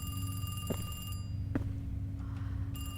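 A telephone rings in The Devil's Route video game, with steady electronic bell tones that cut out briefly before ringing again over a low ambient hum.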